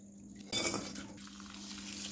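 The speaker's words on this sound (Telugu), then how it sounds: "పచ్చడి మొత్తం మంచిగా కలుపుకోవాలి" A spoon stirring cooled oil into bitter gourd chutney, a soft clink against the container followed by quiet wet mixing scrapes, close and faint.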